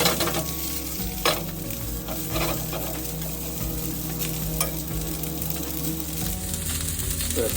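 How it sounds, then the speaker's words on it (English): Cabbage and soba noodles stir-fry in a hot pan for yakisoba, with a constant close sizzle and occasional scrapes and tosses of the spatula. "Stir fry the cabbage, soft cabbage."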